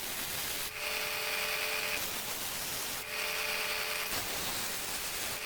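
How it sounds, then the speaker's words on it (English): Belt sander shaping resin and wood pendants, a steady high whirring grind with two short bursts of the workpiece pressed against the belt, alone and moderately loud. "So now I'm going to shape them with the belt sander and make them into the shapes that I want them to be"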